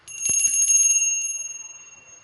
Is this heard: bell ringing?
yes